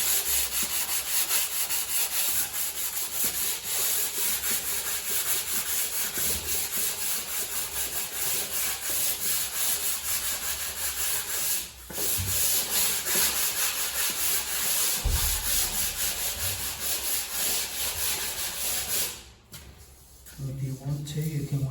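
Hand sanding of dried fine plaster filler with 120 grit sandpaper makes a continuous close, gritty rubbing hiss of steady back-and-forth strokes. The sound pauses briefly twice, and a voice talks at times over the scraping.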